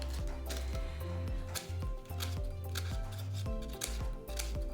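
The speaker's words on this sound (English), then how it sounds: "It's always fun to practice our scissor skills." Scissors snip through paper in a steady series of crisp cuts, close and fairly quiet, with no talking.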